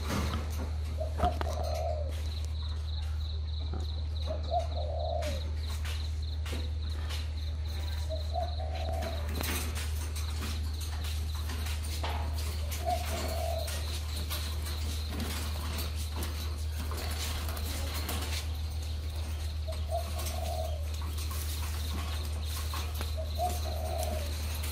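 Spotted doves kept together as caged birds give soft coos at spaced intervals over a steady, loud low hum, with no talking.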